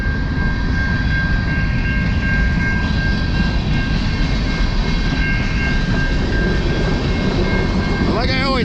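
Railroad cars roll past close by on a Montreal walk, a loud continuous rumble with steady rattling and a squealing wheel tone, carrying on without a break and with no locomotive engine standing out.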